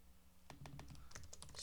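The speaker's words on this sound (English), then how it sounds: "Let me just type it out to make sure." Computer keyboard typing starts after a quiet moment, a quick burst of close, soft key clicks in uneven rhythm over faint low hum.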